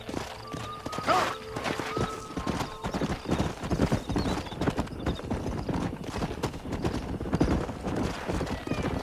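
A stallion in Red Dead Redemption clip-clops along at a steady pace, hooves striking close and clear, with a whinny and snorts near the start and other faint game sounds around.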